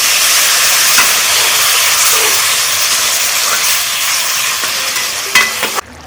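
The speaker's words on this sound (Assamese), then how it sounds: "এতিয়া অলপমান পানী দি দিছোঁ।" A little water goes into a hot pan while cooking an outdoor Chinese-style dish, releasing a loud, continuous steam hiss and sizzle that holds steady, then cuts off abruptly near the end.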